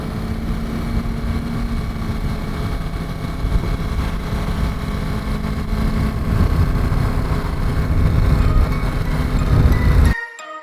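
A sport motorcycle engine holds a steady drone at a little over 4,000 rpm while riding, loud and close with wind rush, swelling slightly before cutting off abruptly at the end.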